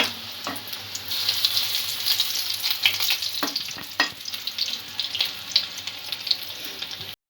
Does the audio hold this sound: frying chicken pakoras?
yes